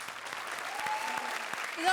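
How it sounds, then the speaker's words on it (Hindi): A studio audience claps briskly and continuously for the duo Kapil and Parvati on a comedy show stage, a dense, fairly even burst of applause with faint voices mixed in. "दोस्तों एक बार जोरदार तालियां कपिल और पार्वती के लिए"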